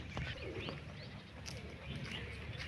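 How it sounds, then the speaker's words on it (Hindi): Pigeon cooing at an ashram along the Narmada parikrama route, soft and somewhat distant, a few low coos over steady outdoor ambience with faint chirps. "एक कबूतर"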